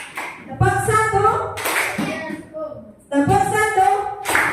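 Schoolchildren in an Indonesian classroom clap their hands together in a short patterned clapping routine, with bursts of loud claps mixed with their voices and a teacher talking.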